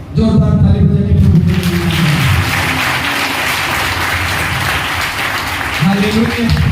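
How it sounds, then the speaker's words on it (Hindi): A church congregation claps loudly and continuously, a dense roar of hands throughout, with a voice speaking over the start and again briefly near the end. "जोरदार ताली बजा के"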